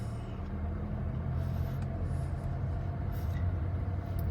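A 2024 Mazda CX-50 pulling away in first gear, a steady low engine drone and rumble from inside the cabin, continuous and fairly loud throughout with no voices.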